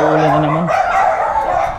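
A dog barks a few times outdoors as rain threatens, partly mixed with a person talking nearby.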